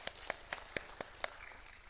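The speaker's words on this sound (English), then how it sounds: "please, a round of applause" A handful of people at a university book launch clap, about six sparse, evenly spaced claps, faint and distant against a quiet room.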